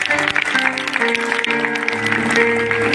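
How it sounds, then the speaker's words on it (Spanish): An audience at a church testimony gathering claps continuously and loudly, blended with music and some background voices. "Demos palmas a nuestro Padre."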